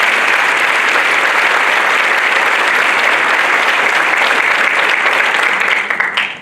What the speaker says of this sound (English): So a round of applause again, Kate.